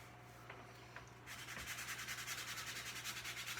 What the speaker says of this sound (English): there's quite a bit of sanding to do